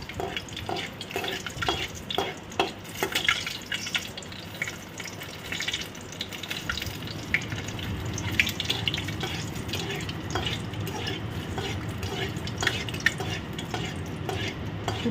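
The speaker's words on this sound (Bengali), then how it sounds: "দিয়ে দেব হচ্ছে শুকনো লঙ্কা দুটো, প্রথমে ভেজে নেব" Two dried red chillies fry in oil in a pan, giving a soft, steady sizzle under intermittent stirring and scraping clatter, with no talking.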